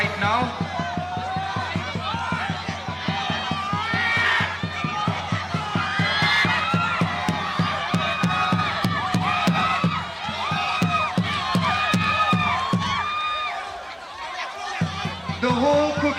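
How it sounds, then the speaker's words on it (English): At an outdoor tug of war competition in Kisama, a cultural troupe drums and cheers for its team. Loud, fast, steady drum beats drive the noise while voices chant and shout over them, with a brief lull near the end. "The whole Cookie cultural troupe cheering for them with the drums you are witnessing."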